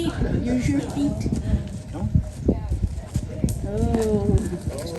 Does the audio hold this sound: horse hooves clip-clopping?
yes